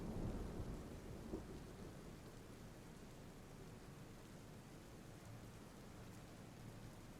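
Stormy weather in the video game This is the Police, with a constant wash of rain and a low rolling thunder rumble that fades slightly early on, then holds steady and fairly quiet with no talk.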